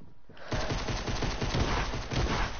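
Gunfire in Fortnite, a rapid, steady string of loud shots in quick succession following a brief quiet start, close and dominant with no voices over it.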